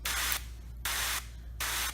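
An Express tank sprayer fitted with a blue tip sprays a fine water mist in three steady bursts of loud, close hiss with short pauses between them.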